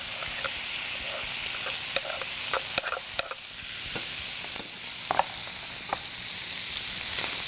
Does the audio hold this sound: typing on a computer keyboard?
no